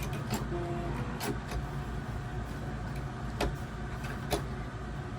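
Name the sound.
sewing machine stitching dress fabric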